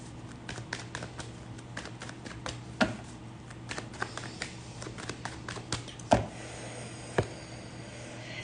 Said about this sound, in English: I'm going to shuffle these again.